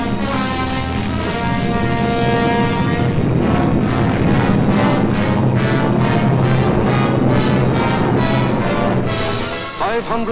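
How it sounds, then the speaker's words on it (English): German bombers and Messerschmitt fighter planes roaring overhead during a 1943 wartime air raid on the English coast, a loud sustained droning of engines with pulsing throbs, dense and close, alone throughout. "German bombers and Messerschmitt fighters roared over the English coast."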